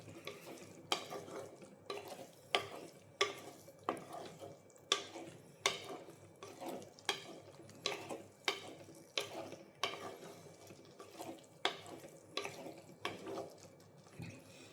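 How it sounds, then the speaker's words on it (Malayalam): Turmeric powder being stirred in a pan for a Kerala Vishu curry of drumstick, okra, dal and mango, a steady rhythm of scraping spoon strokes roughly every half second over a soft sizzle, close and alone without talk. "ഒന്ന് ഇളക്കുക."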